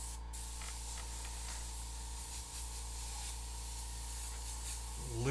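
An airbrush sprays pink paint over a custom fire-and-skull design, making a steady close hiss over a constant low hum, with no voices.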